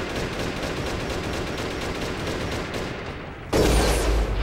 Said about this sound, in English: That's the other reason I wanted to use the unlimited chain gun here